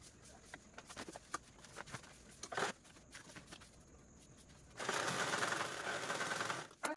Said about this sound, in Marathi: तर चला स्टिच करूया।